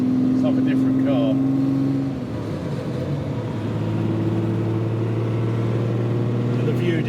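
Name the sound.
Ferrari 275 GTB V12 engine running on the road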